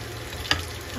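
Hot oil sizzles faintly in a pan for Filipino adobo, a low steady crackle with one brief sharper pop midway.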